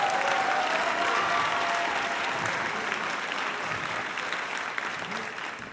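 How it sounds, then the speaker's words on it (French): Concert audience applauding a giant carrier on stage at a 2014 concert in Cassel, a dense sustained ovation of many hands that gradually fades toward the end, with faint voices underneath. "Vous pouvez l'applaudir."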